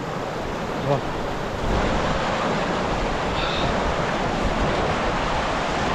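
A mountain stream and waterfall on rough terrain between Lachung Village and Zero Point, a broad continuous rushing roar close by, with a brief voice near the start.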